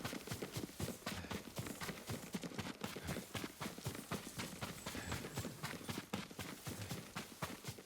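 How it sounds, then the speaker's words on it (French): Horse hooves clip-clopping in the Ghost of Tsushima video game, a quiet, steady rhythm of repeated hoof strikes on ground, continuous and without talk. "Ah, son cheval."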